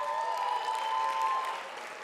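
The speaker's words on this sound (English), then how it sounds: "I didn't even have to continue the sentence because you started clapping" Audience at a closing congress speech in Lyon applauding, a dense sustained wash of many hands clapping that stays full throughout and eases slightly toward the end.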